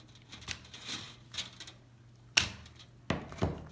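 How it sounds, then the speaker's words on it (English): Heavy-duty scissors snipping through a rubber flip-flop strap, a few scattered rustles and handling noises followed by sharp crisp cuts near the end, close and fairly quiet. "So you can use some heavy-duty scissors or something,"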